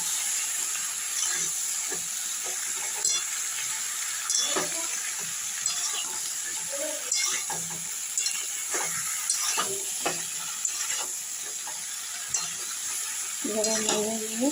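Vegetables for Bengali shukto stirred in a pan with a little added water, a steady close hiss and sizzle with repeated scraping stir strokes throughout, plus a brief clatter near the end.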